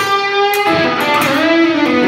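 A smooth, legato electric guitar phrase played with pull-offs, notes flowing into one another with a fluid, sustained tone, played alone.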